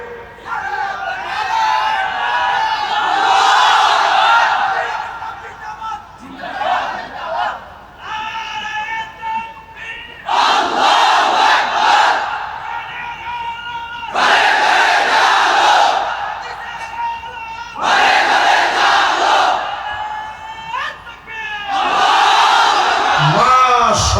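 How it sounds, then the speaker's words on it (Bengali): Large crowd at an Islamic religious gathering shouting the takbir in loud, repeated bursts, a chant answered again and again with short pauses between rounds. "এখন একজন তাকবীর দেন বীরের মতো।"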